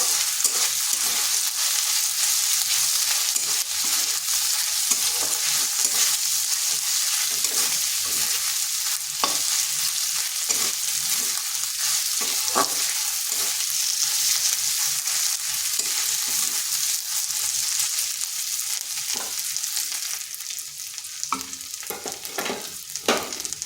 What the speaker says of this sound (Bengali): আদা রসুনটাকেও হালকা ভেজে নিচ্ছি যাতে তার কাঁচা গন্ধটা চলে যায়